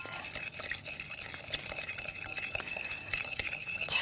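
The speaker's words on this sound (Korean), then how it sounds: "미니 거품기로 요거를 잘 저어 주셔도 좋고요." A mini whisk stirs vinegar, salt and sugar into a basic French dressing, making quick, light clicking and swishing strokes against the bowl. The sound is fairly faint and close, with no talk.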